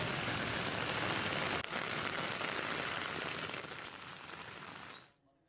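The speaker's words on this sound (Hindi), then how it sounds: "घंटे से बारिश हो रही है।" Heavy rain pours steadily on flooded roads in Delhi, a dense continuous hiss of water hitting surfaces, loud and close, with one brief knock, then fading out abruptly near the end.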